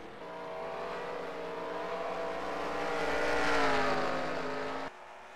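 Race cars circle Denver Motorsports Park in a CCS race, engines droning steadily and rising to a louder peak as they pass nearby before dropping off abruptly.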